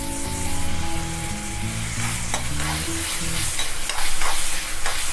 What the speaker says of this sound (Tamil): வெங்காயம், தக்காளி, இஞ்சி பூண்டு இது 4மே ஒன்றா சேர்த்து ஒரு 2 நிமிஷம் போல் ஹை ஃப்ளேமில் இருக்கட்டும்.